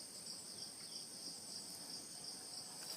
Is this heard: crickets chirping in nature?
yes